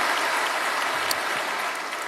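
A church congregation claps in praise after a sermon, a dense, even wash of applause that eases slightly toward the end.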